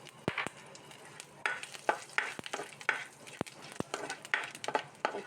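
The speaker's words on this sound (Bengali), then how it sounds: "দেব দুটো শুকনো লঙ্কা, একটু ফ্রাই করব। তারপরে দেবো মৌরি, গোটা মৌরি" Dried red chillies and whole fennel seeds fry in hot oil in a pan for a Bengali-style pineapple chutney, giving a steady close sizzle broken by sharp stirring scrapes and clicks.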